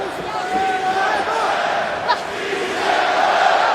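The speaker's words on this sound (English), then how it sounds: "The chants from this pro-Mexico crowd just across the border for Yasmin Jauregui" A pro-Mexico boxing crowd chants for Yasmin Jauregui, a loud, sustained roar of many voices in an arena near the border, with a commentator talking over it.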